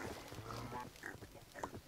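Pigs in the Minecraft video game grunt softly in short oinks among quiet background game sounds, with a few brief snorts spread across the moment.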